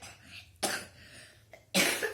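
A child coughs in two sharp bursts about a second apart, close by and fairly loud, with a weaker catch in between and quiet around them.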